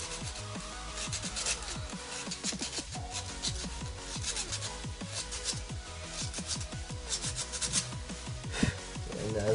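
Hand sanding a handmade gauge plug with 120 grit sandpaper, a steady run of close, rhythmic rasping strokes that repeat quickly with no speech.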